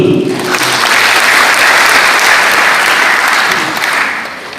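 An audience at a university student send-off ceremony in Nusa Tenggara Timur, Indonesia, claps for the provincial governor; thick, loud, sustained applause fills the room and softens slightly in the final second.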